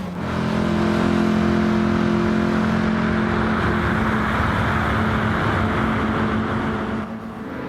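A fast race car in a video game revs hard at full throttle, a loud sustained engine roar that holds steady for several seconds before easing off near the end, with no talking.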